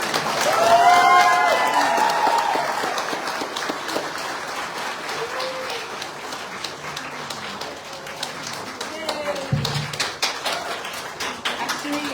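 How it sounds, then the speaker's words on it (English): An audience applauds after the pre-pageant interviews at the Miss Pacific Islands contest, a dense round of clapping that starts strong and slowly thins out, with voices speaking faintly over it. "So can we please give a round of applause?"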